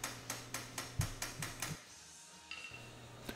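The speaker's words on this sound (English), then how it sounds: "if you overshoot it, you can just tap it back with the hammer" A hammer taps a pin back into a kart drive chain on a Razor quad ATV being converted to a 48V 1800W electric kit, giving a run of about seven quick, sharp metallic strikes, then a pause and fainter clinks.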